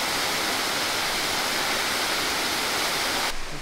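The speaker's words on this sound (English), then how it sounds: "This is like the best view of the both waterfalls dropping here." Two waterfalls pour into a pool at a cliff-jumping spot in Moalboal, a dense, steady roar of falling water filling the whole clip without a break, loud and close, no voices over it.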